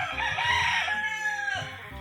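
A rooster crows once, loud and close, its long call rising and then trailing off.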